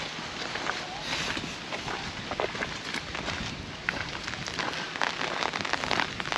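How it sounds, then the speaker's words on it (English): Steady rain patters on a surface close by at Montacute House, a dense crackling hiss with scattered drops, while a voice murmurs faintly underneath. "This is where I have the rain."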